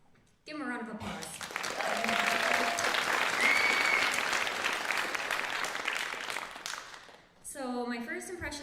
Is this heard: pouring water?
no